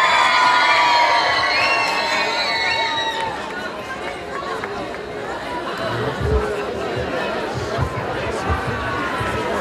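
A large concert crowd in Stara Zagora cheers and shouts for a band, a loud, dense roar of voices that swells and holds, with scattered claps and thumps underneath.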